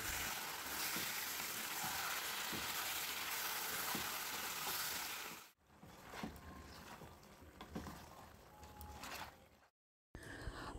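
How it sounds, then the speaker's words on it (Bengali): Chicken shallow frying in a pan gives a steady, close crackling sizzle for several seconds, then cuts out and returns as fainter frying with scattered clicks and stirring knocks. "চিকেনটাকে আমরা আলাদা করে একটু ভেজে নেব মানে হালকা করে শ্যালো ফ্রাই করে নেব"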